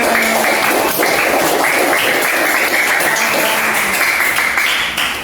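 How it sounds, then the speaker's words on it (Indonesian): Sustained applause from a class after a group presentation, steady and loud throughout, with many hands clapping at once and no voices on top. "Tepuk tangan."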